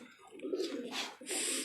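Pigeon cooing nearby among other birds, a few soft coos and chirps at moderate loudness with faint background sound.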